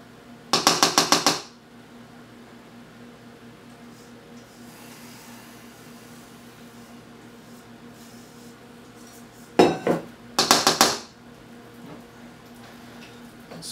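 A spatula scrapes Carbquik pound cake batter out of a metal pan in two bursts of clinking, scraping strokes, one near the start and another cluster about ten seconds later, with quiet room tone between them.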